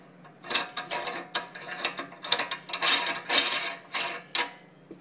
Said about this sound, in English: Finally, put on your locking ring.